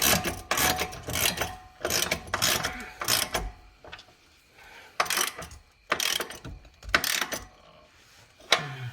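A ratchet drives 13 mm bolts on a Ford F-150, with repeated bursts of rapid clicking strokes separated by short pauses, close and fairly loud.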